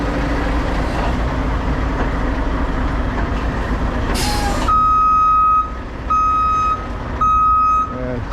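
A 2023 Mack truck backs up, its reversing alarm sounding as a steady beeping tone in four repeated bursts, preceded by a loud diesel engine rumble and a brief sharp hiss of air brakes.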